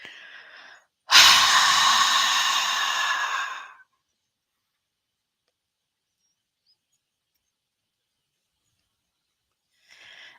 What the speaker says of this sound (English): you could hear me pushing out that air